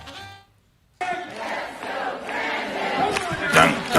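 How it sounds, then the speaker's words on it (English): A crowd chants together in a rhythmic, loud group roar that swells and builds toward the end after a short silent gap, voices blending into a dense shout. "People are chanting, "Let's go, Brandon.""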